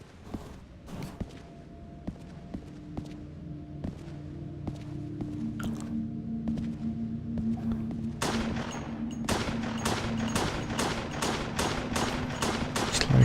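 Gunshots in a video game shooting out lights, scattered single shots early, then a steady run of sharp, evenly spaced shots over a low ambient hum, no talk.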